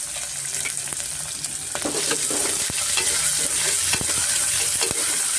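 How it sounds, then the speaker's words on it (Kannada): Onion frying with a little salt in a pan, a loud, continuous sizzle broken by frequent scraping stirs and clicks of a spatula, close and unaccompanied by speech. "ಸ್ವಲ್ಪ ಈರುಳ್ಳಿ ಫ್ರೈ ಆಗಿದೆ ನೋಡಿ"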